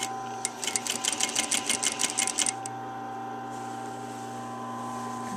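A sewing machine stitches along the edge of a tribal belly dance skirt in a quick rhythmic burst of close mechanical clatter for about two seconds, then falls to a steady hum.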